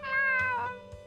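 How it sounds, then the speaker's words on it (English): A cat meows in the visual novel game Fatal Twelve, a single drawn-out, clear mew that falls in pitch, close and alone with no talk over it. "It's a kitty cat."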